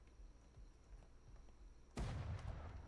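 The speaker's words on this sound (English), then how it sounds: "They're shooting at me." Enemies open fire in the ATLAS video game: a sudden loud burst of gunfire at about two seconds, then sustained noisy shooting over faint background ambience.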